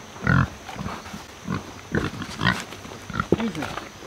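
Hungry farm pigs grunting and jostling at feeding time, several short bursts of grunts at close range alongside a person speaking.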